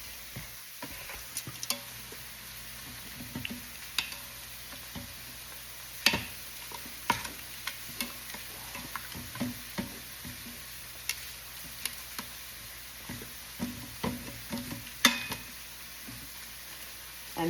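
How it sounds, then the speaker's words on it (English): Ginger sizzles quietly in a pan while tongs stir it, giving scattered clicks and scrapes over a faint continuous frying hiss. "I'm going to grab my tongs and stir that up real quick"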